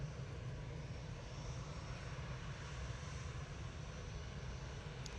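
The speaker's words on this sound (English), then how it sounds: "Just leaving this EasyJet to Paris." EasyJet airliner departing Manchester Airport for Paris, a steady, distant broadband engine roar with deep low rumble holding evenly throughout.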